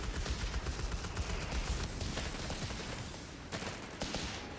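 Dense, continuous gunfire and battle din from the World War II strategy game Company of Heroes 3, machine guns suppressing infantry amid a steady wash of rapid shots and explosions, loud and sustained throughout.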